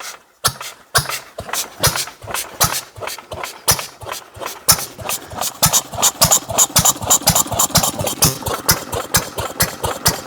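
An old Ruston PB8 stationary engine, started by flicking its flywheel after years of sitting, fires and settles into loud, close, rhythmic thumping that grows quicker and more even as it runs.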